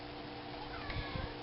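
A pet cat meows softly indoors, two brief low calls heard faintly against a steady background hum, with a person nearby who also imitates the meow.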